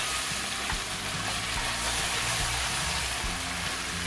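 Ginger and garlic frying in a pan for mutton keema kaleji, a dense continuous sizzle and crackle that holds at a loud, even level throughout, with occasional faint stirring knocks.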